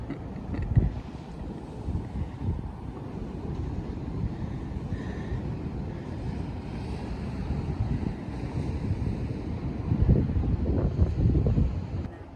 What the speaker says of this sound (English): listen to the ocean.